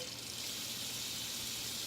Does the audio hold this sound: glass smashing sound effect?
no